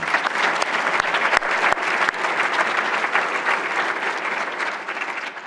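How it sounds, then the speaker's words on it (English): Dense, sustained applause from an audience at an awards event, loud and steady throughout with a few sharper claps standing out near the start. "So another round of applause for Susan."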